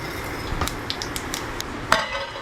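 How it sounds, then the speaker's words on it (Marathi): Mustard seeds crackle and pop in hot oil in a pan for quinoa upma, a handful of sharp, bright clicks spread over a couple of seconds with one louder snap near the end, close and fairly quiet, with no voices. "तर आता तेल घालले ससम घालता"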